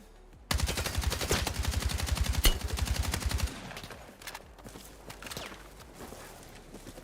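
Rapid automatic gunfire from the Battlefield 6 video game, a loud sustained burst of close shots for about three seconds, then quieter scattered shots and in-game ambience.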